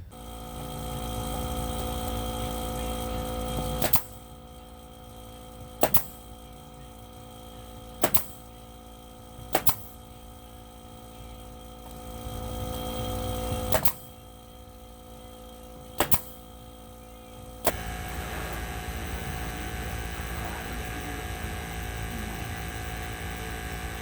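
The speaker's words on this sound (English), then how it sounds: "I'm going to go down here and just go absolutely staple crazy" A staple gun fires repeatedly while fixing wire mesh to a wooden chicken coop frame, about nine sharp, loud snaps spaced a couple of seconds apart over a steady hum, with no talking.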